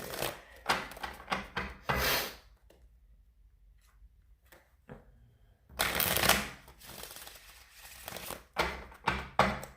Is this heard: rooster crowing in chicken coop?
no